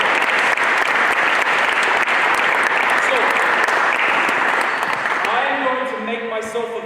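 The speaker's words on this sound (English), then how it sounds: "Let's give them a big round of applause." Big round of audience applause after a basketball coaching clinic, loud, dense clapping that holds steady and then eases off, with a voice starting to speak over the fading claps at the end.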